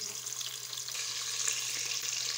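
Chopped onions dropped into hot cooking oil, giving a steady, fairly quiet sizzling hiss with a soft watery crackle that continues evenly throughout, no voices over it.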